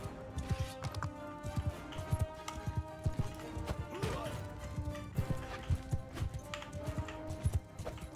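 Horses gallop in a Mount & Blade II: Bannerlord battle, with rapid, loud, repeated hoofbeats throughout, an occasional crash and faint voices in the mix.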